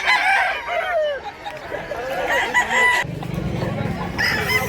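Roosters crow close by at a farm in Mantalungon, Barili, Cebu, with repeated cock-a-doodle calls and clucking overlapping in quick succession amid a low rumble of background noise.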